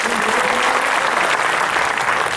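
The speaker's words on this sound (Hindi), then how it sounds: "सम्मान में जोरदार तालियां बजा दो।" An audience bursts into strong, sustained applause for a poet at a comedy and poetry stage show, dense clapping from a crowd filling the whole moment.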